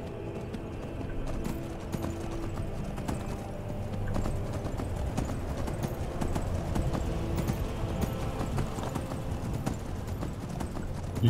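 Horse hooves clip-clop steadily in Skyrim, a continuous rhythmic trot with an occasional faint whinny, close and moderately loud under game ambience.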